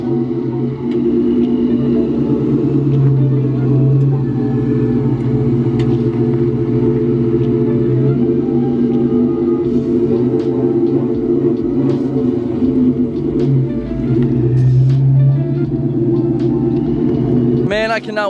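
A 1999 Mustang GT with a Vortech supercharger idling and rumbling steadily from its exhaust, a constant low engine drone heard close for the whole stretch with small rises in level.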